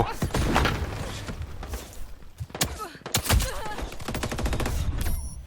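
Gunfire in the game Veiled Experts: repeated sharp shots and rapid automatic bursts, with thuds and impacts, loud and close throughout.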